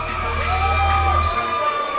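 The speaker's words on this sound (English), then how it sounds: "I think the crowd is starting to really warm into this night." A crowd at an MMA fight night on the Gold Coast cheers and whoops in a steady, fairly distant roar that fills the whole moment, with no clear voices standing out.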